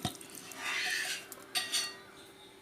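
A utensil scrapes and clinks against a pan while boiled papaya is mixed with chili powder, a soft stirring rustle followed by a few light metallic taps, close and fairly quiet with no talking.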